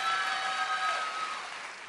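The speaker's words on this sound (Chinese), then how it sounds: "欢呼一下" Audience at the 53rd Golden Bell Awards radio ceremony cheering and applauding in a hall, a dense wash of clapping with voices on top that fades gradually over about two seconds.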